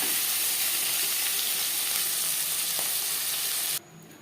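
Fish pieces and a fish head fry in oil in a wok for a hilsa curry, giving a loud continuous sizzle that cuts off abruptly near the end.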